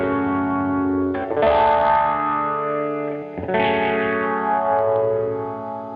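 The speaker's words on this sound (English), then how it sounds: "we're going to go over to patch A with the blues pedal, so just a light bit of a boost there" Electric guitar through a lightly boosted blues pedal on the bridge pickup plays a song intro, two ringing chords with sliding tones and echoing sustain, loud and alone.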